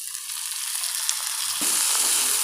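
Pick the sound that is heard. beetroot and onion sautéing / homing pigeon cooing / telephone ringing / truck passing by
beetroot and onion sautéing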